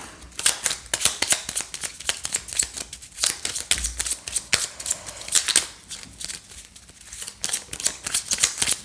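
Tarot cards being shuffled by hand, a rapid run of crisp riffling flicks and slaps repeating close up throughout, no talk.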